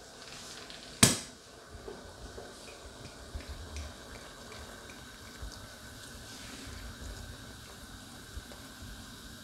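A bottle of blonde or dark beer is poured into a stew pan for carbonade flamande, starting with a sharp clink and followed by a soft, continuous liquid trickle and fizz.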